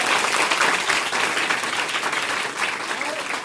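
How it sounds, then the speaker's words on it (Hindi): An audience claps for a student result at a gathering, with dense, steady applause that stays loud and close throughout. "चलिए ताली बजाइए आप लोग इसको"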